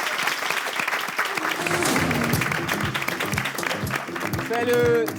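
Audience applause on a French television show's grand final debriefing, a crowd clapping steadily for several seconds while voices and a few louder cheers or whoops rise over it near the end.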